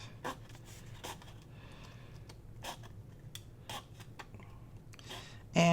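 Thick paper is snipped along a score line, soft irregular cutting clicks and rustles close by under quiet room tone.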